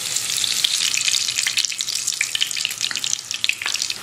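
Koftas frying in hot oil, a dense, crackling sizzle with bright popping bubbles, close and continuous throughout with no voices.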